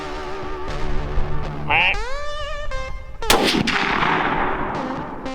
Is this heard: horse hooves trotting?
no